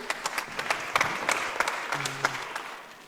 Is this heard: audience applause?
yes